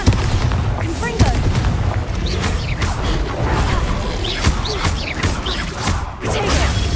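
Rapid spell blasts and impacts from Incendio, Bombarda and Confringo in Hogwarts Legacy, a dense run of bursts and crackling booms in steady succession over continuous game noise.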